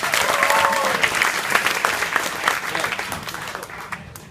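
An audience at a corporate dinner and dance party game bursts into loud, close applause with a few shouts over the clapping, which fades slightly toward the end.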